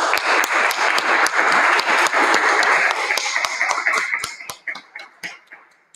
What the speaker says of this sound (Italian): Gli applausi faticavano a interrompere questa comunicazione così suggestiva